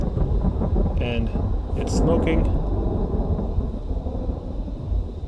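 Rain and thunder in the video game Vintage Story, a steady broadband rain hiss with low rumbling throughout, while someone talks over it.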